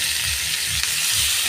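Lote fish, also called Bombay duck, frying in a pan with chilli powder, a loud steady hiss and sizzle with faint low pulsing underneath and no talking.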